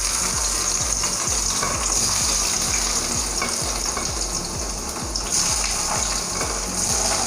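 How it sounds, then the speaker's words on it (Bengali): Pieces of paneer fry in hot oil with a loud, continuous hiss and crackle up close, and a soft repeating low thump sounds beneath the sizzle. "তেলটা গরম হয়ে গেছে, আমরা পনিরগুলো আস্তে আস্তে পুরোটাই ছেড়ে দেবো আর কি।"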